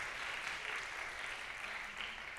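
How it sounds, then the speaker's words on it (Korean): A church youth congregation claps in steady, dense applause for about two seconds, a continuous even wash of hand claps with no talking over it. "박수 한번 보내주세요."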